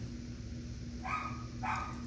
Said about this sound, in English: Why does he start barking every time I start filming?